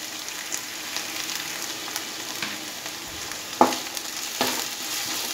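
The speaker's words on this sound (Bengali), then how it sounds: "এইবার আমি সমস্ত সবজির সাথে মিশিয়ে নেব" Mixed vegetables with a little garlic sizzle steadily in a pan while being stirred, a continuous frying hiss broken by a few sharper scrapes and clacks of the spatula, with no voices.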